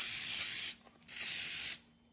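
Cooking spray hissing onto a Dash mini bundt cake maker in two steady bursts, each under a second long with a short pause between, close and fairly loud, with no voices.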